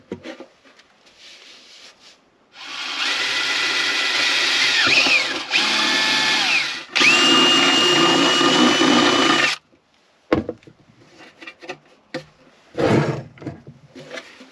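A power drill whirs loudly in a few long bursts, pitch shifting as it bites through the metal side of a campervan, followed by scattered clunks and handling noises.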